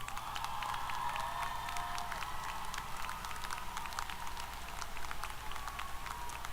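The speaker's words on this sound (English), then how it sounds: "Graduates, now it's your chance to give them a round of applause" Graduates at a Texas A&M University-Corpus Christi fall commencement ceremony applaud their families, producing steady, dense clapping from a large indoor crowd that holds level throughout, with faint tonal hum and scattered vocal sounds underneath.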